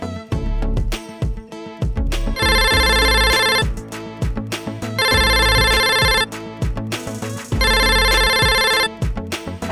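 A telephone ringtone sounds on an outgoing call to a card company, loud electronic ringing bursts repeating in three evenly spaced cycles over a rhythmic backing, with no talking.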